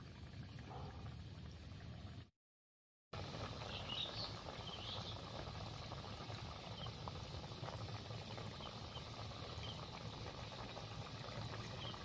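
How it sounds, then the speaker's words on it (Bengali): Khaja pastries frying in warm oil make a faint, continuous fine bubbling with tiny crackles, broken by a brief silent gap. No one speaks. "এই যে আমি খাজাগুলো তৈরি করেছি ওই তেলের মধ্যে দিয়ে দিচ্ছি।"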